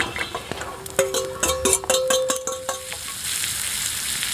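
Beans fry in butter in a pan on a grill outdoors in the hills, a crackling sizzle with irregular sharp pops and light scraping, building into a steady hiss toward the end, with no talking.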